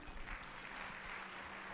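An awards ceremony audience claps together in a dense, even wash of applause that stays steady and somewhat distant throughout, with no voices standing out.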